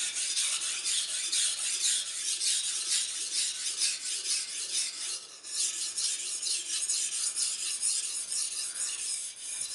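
Kitchen knife blade drawn steadily across a sharpener, giving a continuous bright rasping grind made of repeated strokes with a brief pause midway, close and loud, with no talking.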